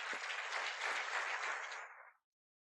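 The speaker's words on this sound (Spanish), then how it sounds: "¿Podemos dar un aplauso más?" Sustained applause from a church congregation, a dense wash of many hands clapping together that holds steady before quickly dying away, with no talking.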